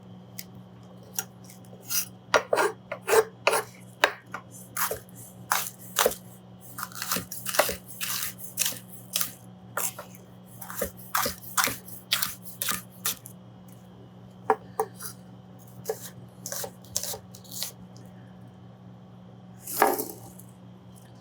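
Knife chopping the other half of an onion on a cutting board for a savory bread pudding, a long run of sharp, close crunchy cuts in uneven bursts over a steady low hum, with no talk.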